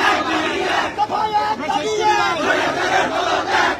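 A large crowd of student protesters at a street rally at an intersection chant slogans in loud, rhythmic unison, voices massed and continuous throughout.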